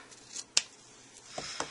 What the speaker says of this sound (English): And now I'm going to use my ribbon scissors